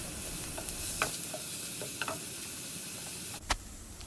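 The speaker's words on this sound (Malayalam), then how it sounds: "ഇതിലേക്ക് ഞാനൊരു സവോള ചെറുതായി മുറിച്ചത് ഇട്ട് കൊടുക്കുകയാണ്." Finely chopped onion sautés for a keema paratha filling, giving a steady sizzle with a few light stirring clicks and a sharper knock near the end, and no talking.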